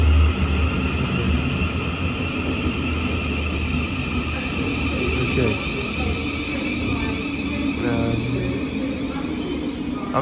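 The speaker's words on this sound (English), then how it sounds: "here comes the train that I'm going to be getting on, 700-009" Class 700 train 700-009 pulling into platform 2 at a railway station, a steady loud rumble and hiss of wheels and motors with faint high squeals, no talking.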